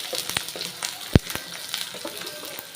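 Onions fry in a little oil in a pan before pangas fish curry, with a crackling sizzle broken by sharp spattering pops and one loud snap.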